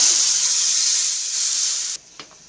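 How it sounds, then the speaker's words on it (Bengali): Boiled dal hits hot mustard oil tempered with black cumin seeds, asafoetida and green chillies for a bitter dal, giving a loud, steady, close sizzle and hiss for about two seconds before it cuts off abruptly, with no talk. "এখন দিয়ে দিচ্ছি সেদ্ধ করে রাখা ডালটা।"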